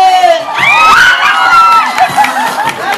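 Wedding guests erupt in loud, close cheering, screams and whoops right after a bouquet toss, a sustained excited crowd roar with shrill high voices throughout.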